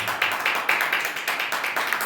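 A church congregation at an anniversary service in India claps together in a quick, steady rhythm of close, bright claps that continues evenly throughout.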